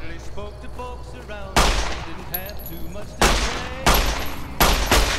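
Gunfire in the Fallout: New Vegas video game rings out as several loud separate shots spaced about a second apart, each with a sharp crack and ringing tail, over game ambience and a talking voice.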